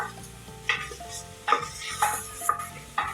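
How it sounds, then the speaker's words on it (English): Onions sauté in a pan on medium flame for Parsi mutton dhansak, a soft steady sizzle broken by five sharp metallic clinks of a spoon stirring against the pan, close and quiet, with no talking. "Continue sauteing the onions."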